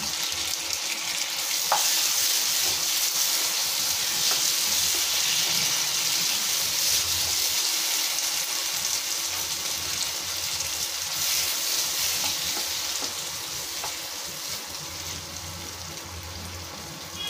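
Chopped tomatoes, about three, sizzle and sauté steadily in a hot pan for chicken gravy, a continuous broadband frying hiss with occasional stir clicks, close and alone without talk.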